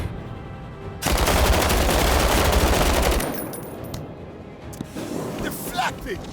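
Video game gunfire breaks into a loud, sustained rapid burst for about two seconds. Scattered shots and impacts follow while someone talks intermittently over the action.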